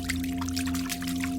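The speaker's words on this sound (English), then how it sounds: "he heard splashing." Water splashes and sloshes steadily for a moment over a constant low electronic hum, close and fairly loud, with no voices.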